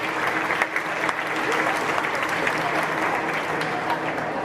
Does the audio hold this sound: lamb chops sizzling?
no